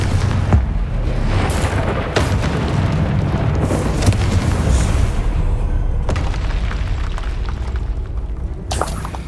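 Spell explosion from the video game Hogwarts Legacy, a loud booming blast with dense rumbling debris that carries on throughout, with repeated sharp impacts layered over the roar.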